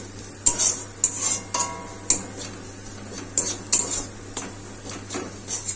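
Metal spoon clinks and scrapes against a pan as fried pointed gourd and potato go in with fish roe, several sharp close knocks over a low steady hum, no talking.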